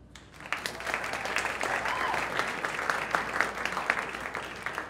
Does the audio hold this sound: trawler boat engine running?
no